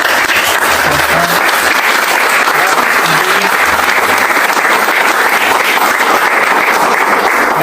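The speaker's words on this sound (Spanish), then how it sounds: "quiero pedir un fuerte aplauso para todos los familiares" A crowd at a public judicial presentation gives loud, sustained, even applause for victims' families, filling the room without a break.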